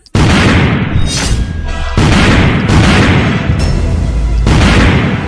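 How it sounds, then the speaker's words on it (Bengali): Heavy bomb blasts at a border, a run of loud, close booming explosions in quick succession, each with a rumbling tail, filling the whole span with no talk. "আমাদের বর্ডারের জায়গায় জায়গায় বোম ব্লাস্ট হচ্ছে"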